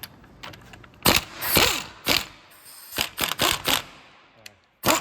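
Ratchet clicking in several short bursts as wheel bearing bolts are tightened on a 2007 Dodge Dakota 2x4 during front wheel bearing replacement, close and fairly loud, with gaps of quiet between strokes.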